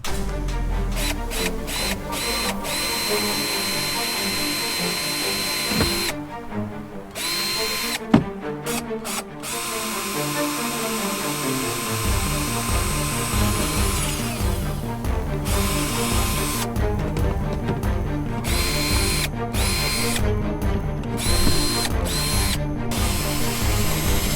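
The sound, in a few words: power drill drilling holes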